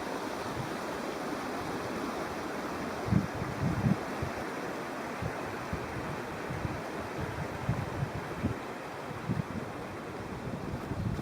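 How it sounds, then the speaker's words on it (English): Steady wind roars across an open wilderness camp in spring, a dense continuous rush with gusty buffeting on the microphone and occasional louder bumps, no voices. "this time it's windy"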